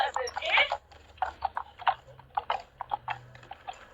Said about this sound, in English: This is when I'm slowing down because two horses are coming towards me.